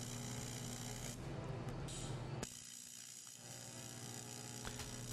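TIG welding on 45 to 50 thousandths aluminum with a 1/16 filler rod, the welder set to 60 amps but run at about 30 amps; a steady close buzzing hiss with a constant hum, softening slightly partway through.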